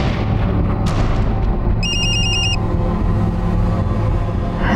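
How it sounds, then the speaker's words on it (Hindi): A short electronic ringtone chimes briefly over a loud, rumbling background of traffic or engine noise. "जरा ये रिंगटोन सुनना।"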